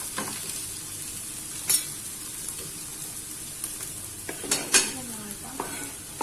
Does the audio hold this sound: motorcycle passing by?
no